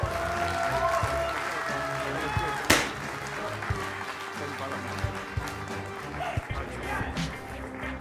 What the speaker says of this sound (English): Ladies and gentlemen, a round of applause, please, for Alexander.